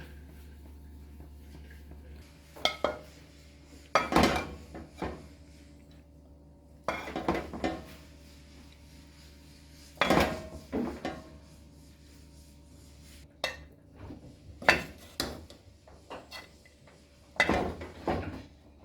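Plates and cutlery clink in scattered bursts as beef stew is served out onto dishes, with close, sharp knocks and scrapes separated by short quiet gaps and no talking.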